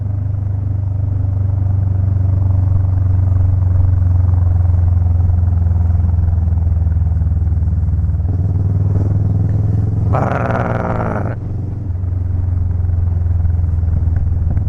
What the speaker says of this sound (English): Marcus, all your bikes always make amazing sound.